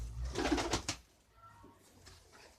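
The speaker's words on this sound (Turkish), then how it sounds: "Dedim ya güvercin geldi sanırım." A pigeon coos a few soft, low notes at close range, with a brief flutter of activity at the start and quiet background afterward.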